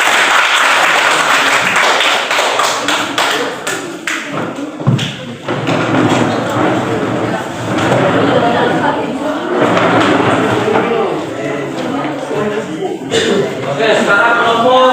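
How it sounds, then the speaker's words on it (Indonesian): Applause for a student group after its presentation in a classroom: scattered clapping with thumps, some chuckles and voices talking over it, uneven and fairly loud over fifteen seconds. "tepuk tangan buat kelompok 2"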